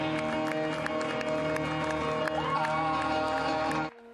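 Passers-by in a street cheer and clap for a neighbour's balcony disco, crowd noise blended under steady loud dance music with voices mixed in, all cutting off abruptly near the end.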